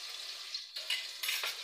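Chicken frying in a pan, a soft steady sizzle with brief bursts of crackle, quiet and close with no voices.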